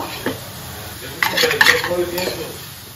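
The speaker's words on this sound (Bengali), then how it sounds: "এখন আমি একটু বেগুনি ভাজছি" Beguni, eggplant fritters, frying in a pan while iftar is prepared, giving a soft steady sizzle broken by a louder burst of clattering utensils and stirring midway.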